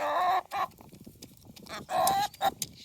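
A chicken clucks over food in quick, excited bursts close by, with short gaps between the calls.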